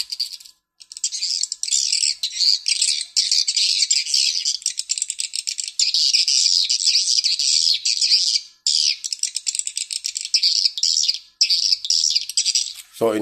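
A recorded bird call plays back through an amplifier in bursts of high, rapid chirps and rattling trills. The bursts repeat almost continuously, with a few short gaps, and no voice is heard.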